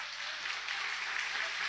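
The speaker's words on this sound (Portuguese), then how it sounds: "Aplauda bem forte ao Senhor." A church congregation claps to praise the Lord, a steady, even wash of many hands applauding together through the whole stretch, fairly loud and with no speech on top.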